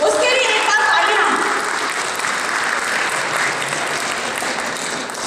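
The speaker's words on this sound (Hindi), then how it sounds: "उसके लिए एक बार तालियां" Sustained applause from an audience at a college event, a broad, steady wash of clapping that stays loud and dense throughout without letting up.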